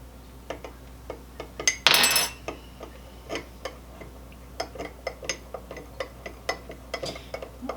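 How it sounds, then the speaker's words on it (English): A spoon stirring a thick sauce for a Lit'l Smokies sausage appetizer, heard as close, light clinks and taps against the dish at an uneven rhythm, with one louder scraping rustle near the start and no voices. "So we'll give this a quick stir."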